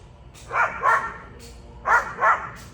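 Two pairs of moderately loud dog barks, each a quick double woof, separated by a brief pause over a low hum.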